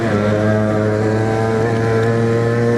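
A Suzuki Shogun motorcycle engine drones steadily while being ridden, a loud, close, even two-stroke hum held at a fairly constant pitch throughout.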